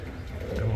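A young racing pigeon, a dark check, gives a short, soft, low coo close by against quiet outdoor background noise.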